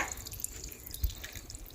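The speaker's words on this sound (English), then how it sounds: "There's my water feature." A garden water feature trickles softly with scattered small drips and splashes, faint and close, and a single low thump midway.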